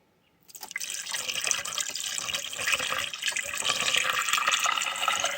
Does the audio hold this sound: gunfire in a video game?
no